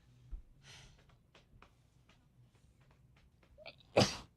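A single sharp sneeze bursts out near the end after a few quiet breaths and small sniffs, close and loud against near silence.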